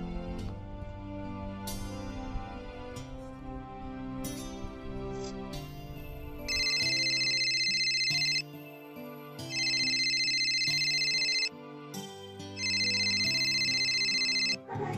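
A mobile phone rings with a repeating electronic ringtone in three loud bursts separated by short gaps, following a stretch of music, in a Santhali short film scene.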